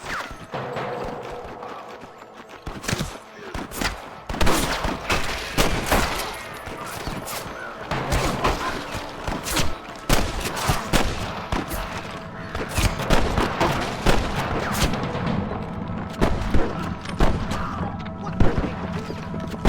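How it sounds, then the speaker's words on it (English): Rapid bursts of gunfire in Red Dead Redemption crackle continuously, loud volleys of shots and sharp impacts with occasional voices mixed in. "I can hear more gunshots."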